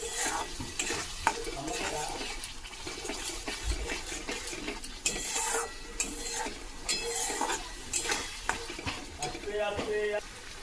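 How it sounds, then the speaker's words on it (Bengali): Spices are stirred with tengra fish in a pan, producing a continuous oily sizzle punctuated by frequent scraping and clattering strokes of a spoon against the pan, close and fairly loud throughout. "এবারে সব মশলাগুলো ভালো করে নাড়াচাড়া করে নিতে হবে, যাতে মশলাগুলো খুব ভালো করে মিশে যায়।"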